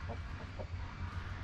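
Chickens at a coop cluck softly in a few brief, faint calls over a steady low background rumble.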